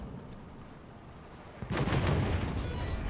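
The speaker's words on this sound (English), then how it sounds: "Watch the shells coming in from these cruisers. And the battleships." Naval shells fired from cruisers and battleships in the World of Warships video game come in as a faint rumble that swells midway into a loud, heavy booming barrage of impacts.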